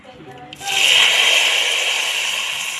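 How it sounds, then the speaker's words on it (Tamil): Tamarind water poured into a pot of sardine fish curry, a steady close splashing rush that begins abruptly after a brief quiet and continues evenly to the end. "நம்ம வந்து புளி கரைசலை ஊற்றிக்கலாம்"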